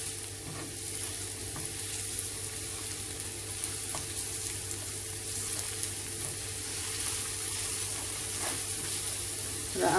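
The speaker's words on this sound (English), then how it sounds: "With the garlic, I'm going to cook my onions." Chopped onions and garlic frying in a pan, a steady close sizzle that holds evenly throughout with faint scrapes of stirring and no talking.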